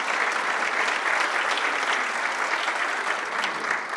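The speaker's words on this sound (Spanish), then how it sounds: "Un aplauso." Steady, dense applause from a conference audience after a hydraulic infrastructure speaker is introduced, sustained and even throughout with no pauses.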